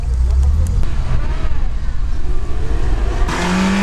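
An off-road car's engine revs and labours on a sand quarry track, a steady close roar throughout with a rising, straining pitch near the end.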